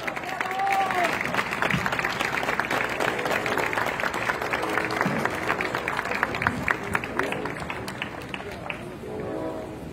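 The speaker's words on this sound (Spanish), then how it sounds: "¡Un aplauso!" An audience at an award ceremony in San Pedro, Coahuila bursts into sustained applause, a dense crowd clapping with some cheering that holds steady throughout while an announcer speaks over it.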